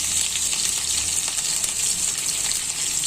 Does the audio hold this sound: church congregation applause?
no